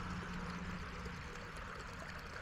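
Water in a garden pond flowing steadily toward the skimmer, a continuous close rushing and trickling wash with no pauses and no voices.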